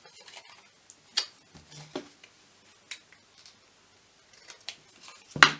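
Scissors snip through paper for a handmade card envelope in short, separate cuts with quiet gaps between them, close and fairly soft, ending on a sharper crisp snip.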